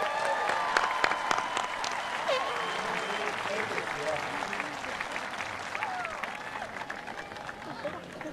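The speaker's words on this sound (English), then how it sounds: "Let's give a round of applause." A 2023 high school graduation audience bursts into sustained applause, with dense clapping mixed with scattered cheers and whistles throughout.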